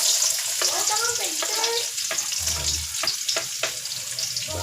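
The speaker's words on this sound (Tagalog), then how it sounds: "Lagyan po natin ang bawang. Gigisa muna natin yan." Garlic sizzles in hot oil before squid is added, a bright close frying hiss with several spoon scrapes and stirs, heard alone without talk.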